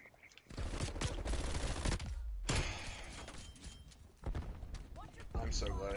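MAC-10 submachine gun firing in Call of Duty Cold War, rapid bursts of automatic fire in dense clusters with gaps between them, loud and close, while someone talks over it.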